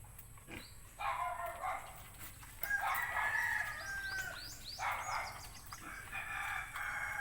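A pregnant sow makes a few grunting, squealing bursts amid farm noise, with roosters and chickens clucking and crowing nearby and a low steady background hum.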